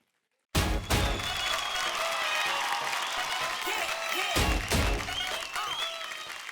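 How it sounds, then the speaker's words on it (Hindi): Studio audience on a televised dance competition bursts into loud applause after a performance, a sustained wash of clapping and cheering with a brief dip and renewed surge near the end. "एक बार जोरदार तालियां इनके लिए हो जाए."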